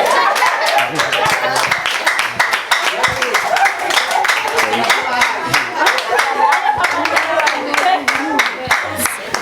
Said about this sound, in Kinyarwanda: Mwese manze muduha amashyi.